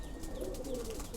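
Male stock pigeons cooing in a loft, a brief soft low coo, close and alone.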